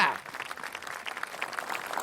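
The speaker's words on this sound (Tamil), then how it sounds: "குழந்தைக்கு கைத்தட்டல் கொடுங்களேங்க" A studio audience on a Tamil children's television fun show claps for a child, giving a brief spatter of light, sparse applause with some voices mixed in.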